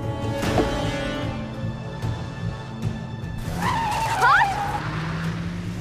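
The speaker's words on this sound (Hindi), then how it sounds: "ये क्या पागलपन है? कैसे गाड़ी चला रहे हो? स्लो करो गाड़ी," A car driven recklessly fast, with its engine droning under voices and tires squealing in a sharp skid near the end.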